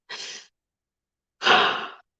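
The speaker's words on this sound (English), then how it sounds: "Sorry, here comes the yawns" Two breathy yawn-like exhalations, a short one followed after a pause by a longer, louder one, close to the microphone with no talking.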